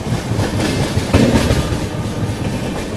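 Brahmaputra Mail train rolling on rails between Rangiya Junction and Guwahati, a steady loud rumble with rhythmic clickety-clack of wheels over rail joints, heard up close from aboard.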